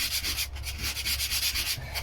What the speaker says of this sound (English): so I'm not sanding all the glass away